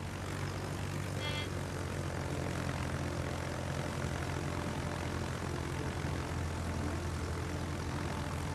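A fighter plane in a naval combat video game launches from the aircraft carrier Pobeda, a steady loud propeller-engine roar lasting throughout with no talk.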